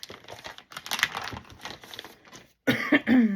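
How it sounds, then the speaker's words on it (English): Paper crinkles and rustles as tea-dyed paper is handled for a handmade bee journal, then a close, harsh cough bursts out in a few quick voiced hacks at the end. "Excuse me for coughing."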